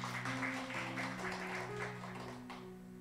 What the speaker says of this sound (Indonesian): Beri tepuk tangan yang meriah buat Tuhan Yesus.